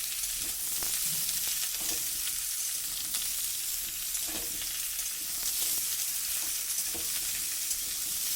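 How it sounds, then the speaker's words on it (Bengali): Chopped raw mango pieces stirred in hot oil with panch phoron, a constant bright sizzle with repeated soft scrapes of a spatula in the pan, close and even. "ওর মধ্যে দিয়ে দিলাম কেটে রাখা আমগুলোকে দিয়ে তেলের সাথে একটু ভালো করে নাড়াচাড়া করে নিতে হবে।"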